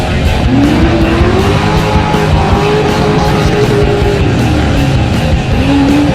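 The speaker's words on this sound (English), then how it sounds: "that's an LS400" A Lexus LS400 drives at a speedway, its engine droning loudly and steadily with rising and falling pitch and some tire noise throughout.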